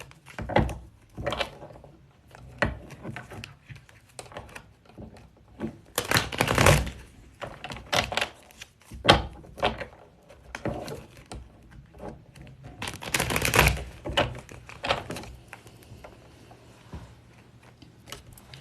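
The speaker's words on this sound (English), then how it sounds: "I want you to ask them right now while I'm shuffling the cards" Playing cards shuffled repeatedly during a live online reading, producing bursts of crisp riffling and flapping with short pauses between, fairly close and alone without talk.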